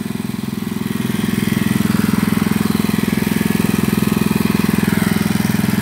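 A small engine with a new carburetor keeps running after its fuel is shut off, a loud, close, steady putter with a fast regular pulse that builds slightly in the first second, then holds even.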